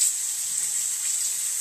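Tap water runs steadily as makeup brushes are rinsed, a thin, even hiss of flowing water at moderate level with no voices over it.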